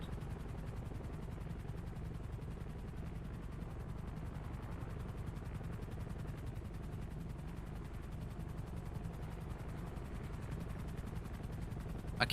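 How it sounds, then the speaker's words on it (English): A helicopter drones steadily in a roleplay video game, flying low overhead at night; a continuous low rotor rumble holds at an even level throughout, with no talk over it. "I hear a helicopter."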